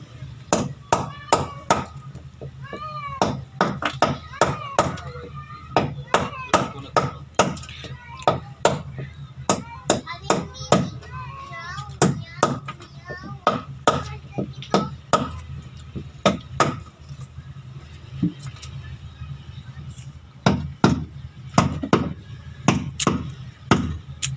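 Hammer blows drive nails into two-by-two lumber, striking hard and near in irregular runs of single and double hits across the stretch, with people talking at intervals between the strikes.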